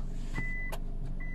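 Reversing beeps from a car being moved, two steady electronic tones sounding close over a low idling engine hum.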